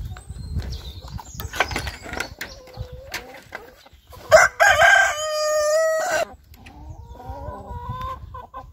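Village hens cluck and chatter nearby, then a rooster crows loudly and at length in the middle before the clucking resumes.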